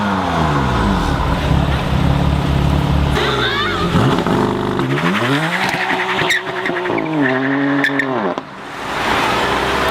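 A BMW M4 Competition with a 3-litre turbocharged inline-6 roars loudly under hard acceleration, its exhaust note rising through several gear changes with sharp pitch sweeps and brief shifts, heard up close.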